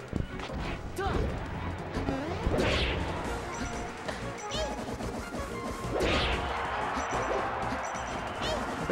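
Forward smash hits in Super Smash Bros. Melee, with sharp impact cracks and whooshing swings over busy game sound and continuous excited commentary.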